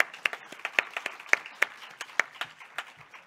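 A small, thinned-out conference audience at a dermatology congress gives sparse applause, with individual claps landing irregularly and fairly quietly for about three seconds.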